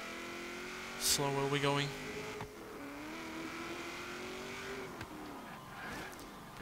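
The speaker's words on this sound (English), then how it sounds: "the more time we spend spinning the wheels up and bouncing off the rev limiter" A 1971 Chevrolet Vega GT engine in Forza Horizon 3 revs with a steady droning whine that rises and bounces at the limiter, with a brief burst of tire noise. A voice talks over it.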